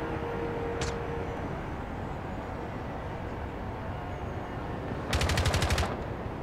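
A gun spraying automatic fire in the video game Rainbow Six Siege: a fast, rattling burst of about ten rounds near the end, over a steady low background hum, preceded by a single faint click.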